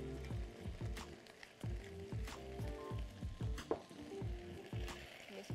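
Squash cooking quickly in a frying pan with a steady sizzle, broken by rhythmic scraping stir strokes that repeat roughly every half second, close and moderately loud.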